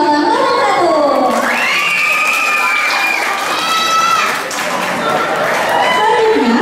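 School students at a Jakarta madrasah event clapping and cheering for candidate pair 01, a loud crowd of young voices shouting and whooping over sustained applause throughout.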